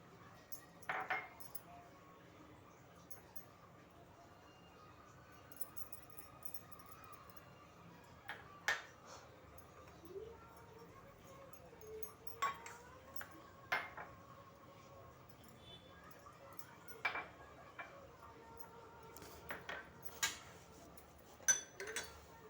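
Cheese, pizza sauce, mayonnaise and chilli flakes being mixed together in a bowl for bread mini pizzas: quiet, sparse clinks and light taps of a spoon against the bowl at irregular intervals over a near-silent background.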